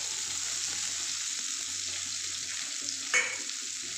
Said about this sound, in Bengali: এই তেলের মধ্যে আমি পেঁয়াজগুলো দিয়ে দেবো